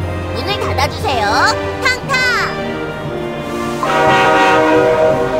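A train departs in the Cookie Run Kingdom game: a horn-like whistle toots in short bursts over a steady rumbling drone, with a voice speaking partway through.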